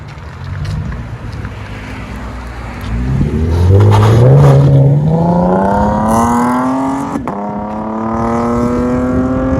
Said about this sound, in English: MagnaFlow gives it a really nice deep tone.